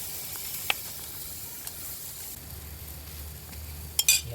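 Milkfish (bangus) frying in a pan over a stone-built outdoor stove, a steady soft sizzle with a couple of sharp clinks near the end, and no talk.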